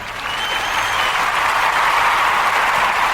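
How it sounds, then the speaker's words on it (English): A quiz-show audience gives a round of applause for a winner who scored four out of four, a dense, even wash of many clapping hands that swells slightly and holds steady throughout. "We'll give a round of applause for that once again."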